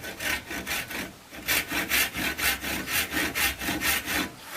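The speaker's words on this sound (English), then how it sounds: "So I'm going to get the saw going first." A hand rip saw cuts along the wood grain on the waste side of a marked line for a lap joint. The rasping strokes are steady and rhythmic, close and fairly loud, with no talking.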